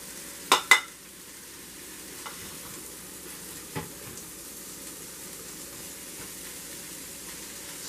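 A cup of chopped onions hits a hot pan in a couple of sharp thumps, then a soft steady sizzle hisses on with one more faint tap, quiet and close.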